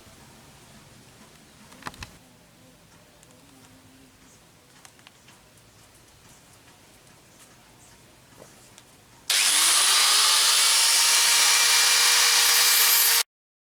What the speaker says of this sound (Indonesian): mau saya amplas dulu biar lebih rapi.